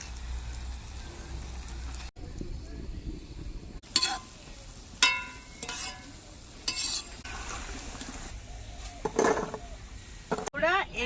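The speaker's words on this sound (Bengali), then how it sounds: "এইভাবে আমি পাকা পটলের বড়াগুলি তেলে ভেজে নেব" Ripe pointed gourd fritters fry in oil with a continuous soft sizzle, broken by repeated scraping and clinking of a spatula against the pan, fairly close.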